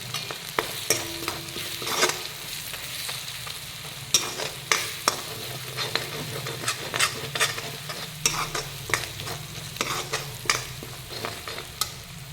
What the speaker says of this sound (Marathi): गॅस कमी करून हलवून घेते